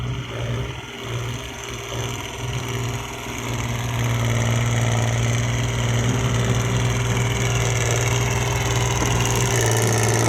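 A diesel farm tractor engine runs steadily nearby, a constant droning rumble that grows a little louder partway through and holds.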